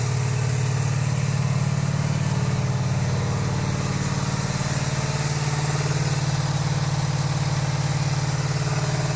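A cafe racer motorcycle engine, freshly serviced with new oil and already warm, idles steadily and close, a constant even rumble on all four cylinders with no voices over it.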